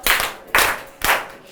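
Three quick bursts of classroom clapping for a student, each a short sharp volley of hand claps about half a second apart, close and fairly loud with no talk over them.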